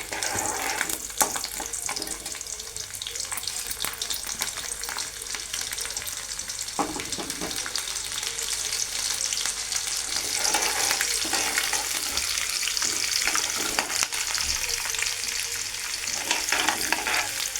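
Whole tempering spices and garlic frying in hot oil for a drumstick-leaf chutney, a loud continuous sizzle and crackle with occasional stirring, no voices.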